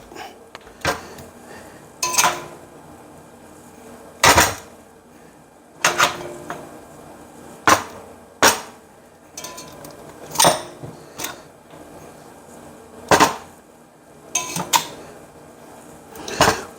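Beef bones are set onto a metal roasting pan in a kitchen, bringing a series of sharp clanks and knocks spaced a second or two apart, close and fairly loud with quiet in between.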